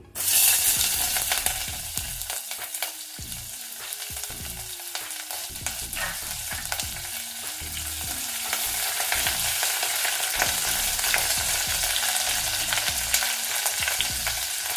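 Onion pieces frying in a pan while a jackfruit seed biryani is prepared, a close, continuous sizzle with repeated scrapes and knocks of a spoon stirring against the pan, louder toward the end.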